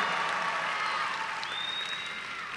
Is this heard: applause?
yes